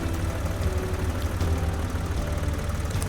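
A six-gear tractor in Professional Farmer 2014 idles and chugs with a low, steady engine rumble, moderately quiet and unbroken, with no voices.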